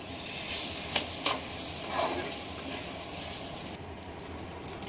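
Mashed potato, paneer and onion are mixed in a hot pan with a steady sizzle. A few distinct scrapes and knocks of stirring stand out near the start, then the sound eases.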